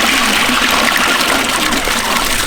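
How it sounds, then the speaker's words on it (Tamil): Water poured into a soup pot for village-style beef tail soup makes a steady, close rushing splash that lasts the whole moment without a break, and nobody speaks. "அழகாக தண்ணி கூட சேர்த்துக்கணுமுக்கா"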